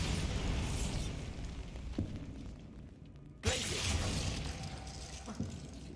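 A Bombarda blast spell goes off in the video game Hogwarts Legacy, a sudden booming explosion with a sharp crack midway, after quieter rumbling game sounds and a smaller pop earlier.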